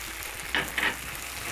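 Coriander stirred into chips masala frying in a pan: a steady soft sizzle with two brief scraping stir strokes near the middle, no talk.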